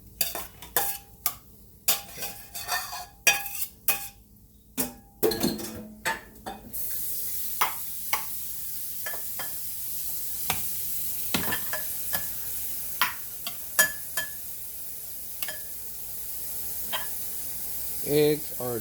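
Eggs sizzle in a hot pan while a utensil repeatedly scrapes and stirs them, sharp clacks coming in irregular bursts over a steady frying hiss during a home pancake breakfast.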